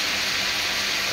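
Hot volcanic thermal water gushing from a push-button tap, a loud steady close rushing hiss with no break and no voices.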